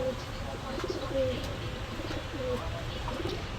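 Pigeons, Pakistani high-flyers at a bird sale, coo softly in low, repeated throaty phrases, close by, with a faint murmur of voices in the background.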